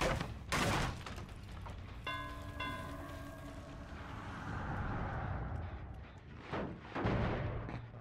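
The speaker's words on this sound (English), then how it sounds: "Not sure where that explosion happened." A muffled explosion in the horror video game Dead by Daylight, a deep rumbling boom mixed with a brief harmonic tone and lingering game ambience, with heavy low thuds near the start and end.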